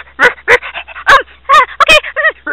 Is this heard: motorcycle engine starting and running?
no